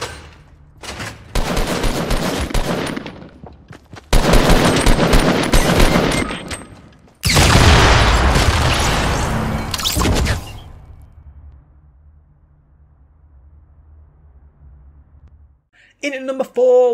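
Fortnite gameplay with gunfire and a grenade explosion: three loud, dense bursts of rapid shots and blasts, each lasting a couple of seconds, followed by a quieter low rumble and a short tonal sound at the end.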